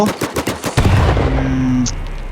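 Rapid bursts of loud automatic gunfire in the video game Last Man Standing crack in quick succession, then blend into a heavy rumbling grenade explosion that slowly fades.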